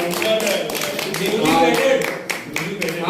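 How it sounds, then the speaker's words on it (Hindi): Scattered hand claps ring out at a birthday gathering as a guest is welcomed, individual slaps audible in uneven rhythm under a speaking voice that continues over them. "तो जोरदार तालियों से स्वागत है विजय भास्कर जी का।"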